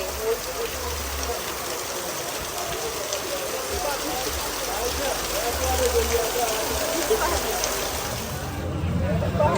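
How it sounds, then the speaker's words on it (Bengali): Heavy monsoon rain pours down at the hilsa fish market in Chandpur. It makes a dense, continuous hiss of drops striking surfaces that grows a little louder toward the end, with no clear talk. "প্রচুর বৃষ্টি হচ্ছে এখানে।"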